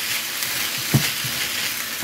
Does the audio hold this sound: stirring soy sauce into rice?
yes